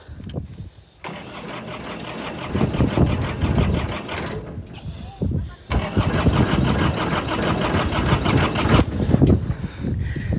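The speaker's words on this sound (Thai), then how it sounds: "เครื่องสองแรงครับ สตาร์ท" A two-horsepower boat engine on a fishing outing starts with a loud, close mechanical clatter and then runs unevenly, cutting out briefly several times before picking up again.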